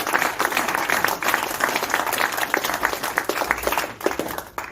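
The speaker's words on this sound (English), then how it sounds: "give Alice and Holly a nice round of applause" A club audience claps for two members, Alice and Holly, a steady patter of many hands that holds at moderate loudness throughout with no voices on top.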